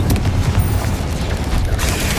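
Fire spell cast in Hogwarts Legacy, a dense, loud burst of low rumbling impacts and crackle that roars steadily through the moment with no voices over it.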